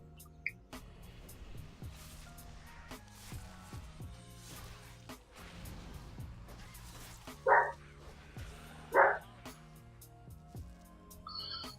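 A dog barks in the World of Warcraft game, two short yips standing out clearly amid faint in-game clicks, thuds and ambient music.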